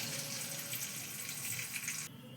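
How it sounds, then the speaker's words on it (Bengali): Tap water running into a mixer jar being washed at a sink, a steady close rush of flowing water that cuts off near the end. "মিক্সির জারটা ধুয়েও দিয়ে দিলাম।"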